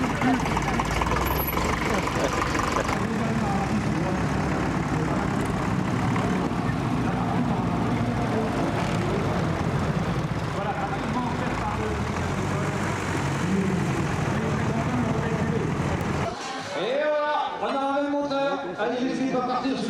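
A loud, steady tractor engine rumble drones continuously, with scattered voices over it, then cuts off abruptly near the end, leaving quieter talk.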